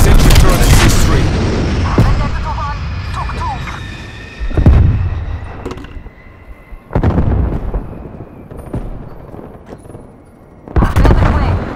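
Heavy explosions from a strafe run in the video game Call of Duty: Black Ops Cold War, a series of loud booming blasts spaced a few seconds apart, with a radio-style voice speaking between them.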